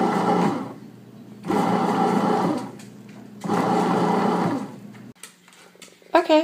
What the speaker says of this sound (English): I'm going to pop this in the bread machine on the white dough cycle